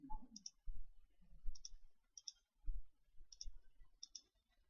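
A computer mouse clicks sharply several times at irregular intervals, quiet and close, with faint low thumps between the clicks.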